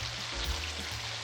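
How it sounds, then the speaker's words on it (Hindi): Shredded chicken with potatoes and masala frying in a pan for achari aloo bhujia, a steady broadband sizzle close by with no talk. "3 से 4 मिनट के लिए मैं इसकी भी भुनाई करूँगी"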